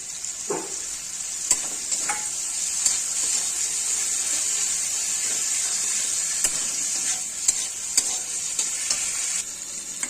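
Tomato pieces sizzle and fry with cauliflower and soybean curry in a pan, a steady bright hiss running throughout with occasional stirring clicks, close and fairly loud.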